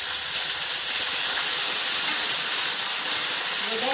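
Chicken thighs hit a hot wok coated in sukiyaki sauce, giving off a steady, close, broadband hiss of sizzling and steam that holds evenly for the whole stretch, with no one talking.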